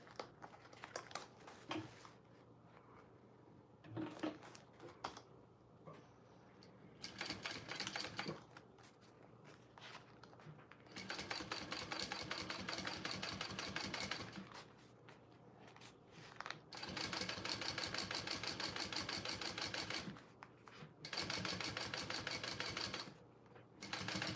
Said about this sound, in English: I'm going to top stitch and baste